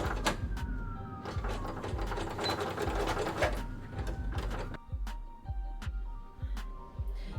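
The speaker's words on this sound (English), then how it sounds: "I'm going to hem the bottom with a double fold hem." A sewing machine stitches a double fold hem along the bottom of a ruched shirt dress, a close, steady mechanical whir that runs in a long burst, then slows into a rhythmic chugging of separate stitches.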